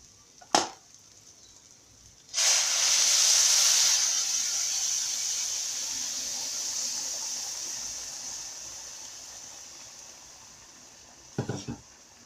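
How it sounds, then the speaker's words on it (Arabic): Boiling water poured into a pot of rice for Alexandrian koshari, a steady hissing rush that starts abruptly and fades slowly over several seconds, with a light clatter at the start and end. "هننزل بقى بميه مغليه"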